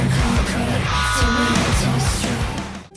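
A dense, loud excerpt of a song plays, with heavy distorted instrumentation, thumping low end and shouted vocals filling the whole clip before it cuts off abruptly.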